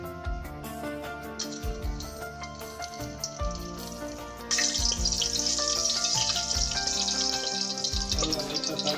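Whole spices for a biryani tempering, cloves, cardamom and cinnamon, fry in hot oil. A soft sizzle runs underneath before the frying jumps to a louder, steady hiss about halfway through.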